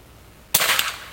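A .22 caliber PCP air rifle fires one sharp, loud shot close by, a sudden crack after near silence that fades over a brief hiss-like tail.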